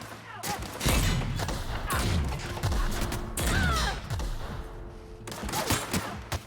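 Rapid explosive blasts from a grenade launcher in the video game The Outer Worlds, loud repeated booms and gunfire bursting across the whole stretch with hardly a pause.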